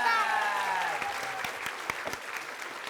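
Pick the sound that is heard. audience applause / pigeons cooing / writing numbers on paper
audience applause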